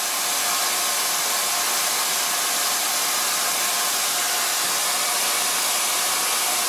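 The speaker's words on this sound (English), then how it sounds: "Gonna blow dry this with the diffuser." A hair dryer fitted with a diffuser blows steadily on curly hair, a loud, continuous broadband rush of airflow with no pauses, close by and unaccompanied by talk.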